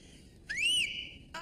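A loud, shrill whistle blown with fingers in the mouth, a single rising then sustained blast lasting about half a second, followed by the start of another brief whistle, heard close with no talking.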